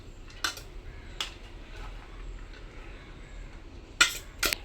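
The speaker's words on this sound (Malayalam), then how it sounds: "ഇത് നന്നായി ഒന്ന് മിക്സ് ചെയ്ത് കൊടുക്കട്ടെ." Chopped tomato, small onion and minced chicken being tossed in a bowl for crunchy cone shawarma, giving a few sharp clinks of a utensil against the dish among quiet handling noise, with louder knocks near the end.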